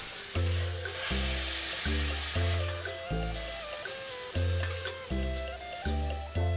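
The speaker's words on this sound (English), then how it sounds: "you want to cook the long beans until they're heated all the way through and have softened slightly, but still have a good bite" Long beans stir-fried in a wok sizzle loudly and close, with rhythmic scraping stirs repeating every half second or so over steady frying hiss.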